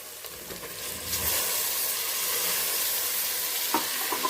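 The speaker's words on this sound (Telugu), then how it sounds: "ఇప్పుడు మనం టమోటా వేస్తాం." Tomatoes fry with masala in a pan for biryani, giving a steady, close sizzle with faint stirring scrapes throughout.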